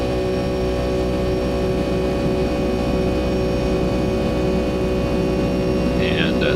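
A Boeing 757-200 in the X-Plane 11 flight simulator takes off from KSAN and climbs, with a loud, unbroken jet drone and a steady tonal hum running throughout.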